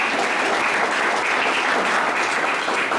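Dense, steady applause from a crowd at a graduation ceremony, a continuous roar of many hands clapping at even loudness for the whole stretch, with no voices standing out.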